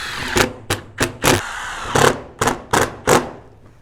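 Self-tapping screws are driven into a sealant-covered cupola base, seven or eight short close bursts from a power driver, each a brief whir with pauses between them.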